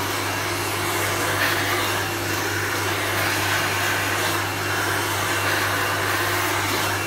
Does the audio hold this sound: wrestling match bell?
no